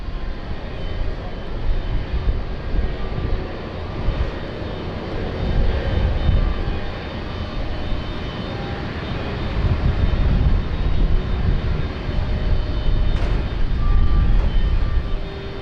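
Heavy Qantas jet airliner at Sydney Airport, a broad roaring engine rumble that swells and fades, loud and sustained throughout with no talk.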